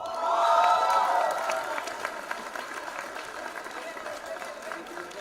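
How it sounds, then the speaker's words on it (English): Audience applause and cheering for the winning group at a college Mumbai Darshan 2023 event, a swell of clapping and crowd noise that peaks early and then settles into steady, fainter clapping with voices mixed in. "Give them a round of applause, guys."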